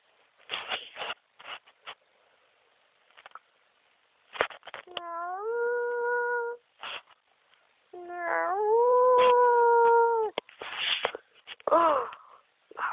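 A monstrous wolf in a Halloween scene gives two long, rising, sustained howls in the middle, with short, scattered, harsher noises before and after.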